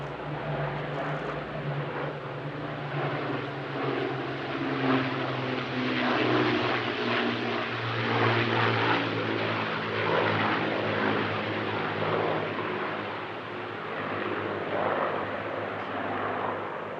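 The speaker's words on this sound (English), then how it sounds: "Here they're flying their Lancaster B1 and clipped-wing Spitfire 16 with special markings paying tribute to Squadron Leader Long and a Spitfire 19." A Lancaster B1 and Spitfires, a clipped-wing Spitfire 16 and a Spitfire 19, fly a display at an airshow, their piston propeller engines droning in a loud continuous roar that swells and eases, with no talk.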